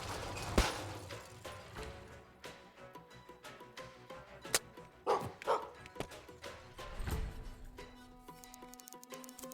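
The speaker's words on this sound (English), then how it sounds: "It's a corgi. I love corgis." A corgi barks in a steampunk Metroidvania video game, several short yips and woofs scattered among game effects and clicks, moderately loud and with no talking.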